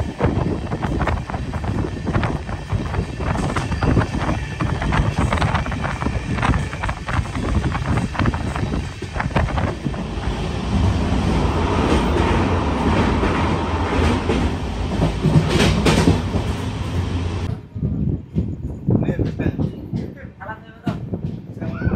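A passenger train runs from Malda toward Kishanganj in Bihar, its loud, continuous rumble and rhythmic wheel clatter filling the carriage amid indistinct voices, before the noise drops off sharply near the end.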